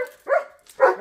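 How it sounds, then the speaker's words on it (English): Pet dogs bark indoors, two loud, close barks about half a second apart, each short and sharp with a brief trailing yip at the end. "Why are you barking? Come on, pups."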